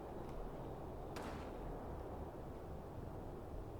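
Cannon fire in the war game Combat Mission, a distant, dull boom under a constant loud rumbling background, with a fainter report just before it.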